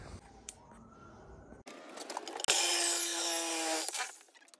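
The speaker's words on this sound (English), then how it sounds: "try to cut these with the Sawzall and see if it looks any better." Sawzall reciprocating saw cutting metal brake booster parts on a 300ZX twin turbo, starting after some handling clatter, then a loud, close, sustained buzzing cut that fades out at the end.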